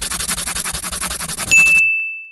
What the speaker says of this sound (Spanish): mi teléfono no paraba de sonar